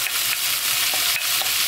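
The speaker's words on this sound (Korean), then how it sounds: "여기서 이제 오징어를 넣어줄게요." Marinated squid is stir-fried over high heat in a pan with cabbage, giving a loud, continuous sizzle broken by light scraping strokes of a stirring utensil, with no voices.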